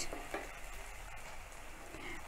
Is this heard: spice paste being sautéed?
yes